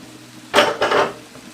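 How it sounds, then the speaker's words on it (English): Butter beans tipped into a cooking pot for Jamaican green plantain dumplings, giving two short close clattering splashes against the pot in quick succession, then quiet. "Let's put in some butter bean, man."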